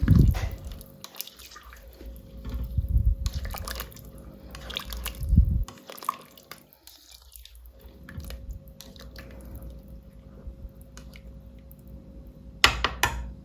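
Boiling water poured into a multicooker pot of pilaf, a close liquid splashing and bubbling that swells twice, then settles into soft wet stirring and squishing sounds, with no talk.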